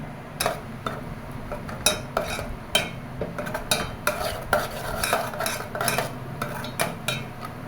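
Grated coconut stirred in a pan with milk powder for coconut laddu, a spoon scraping and clinking against the metal in a steady, close rhythm of repeated strokes with no talk.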